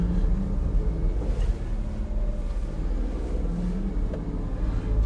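A 2004 Suzuki Carry 4WD kei truck pulls away in a very low first gear, its small engine giving a steady, close, low rumble that holds even throughout with no speech.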